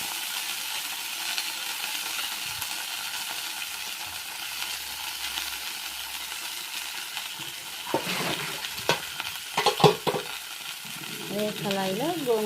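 Gongura leaves stir-fried in oil in a kadai give a steady soft sizzle, with a few sharp scrapes and clinks from stirring near the end.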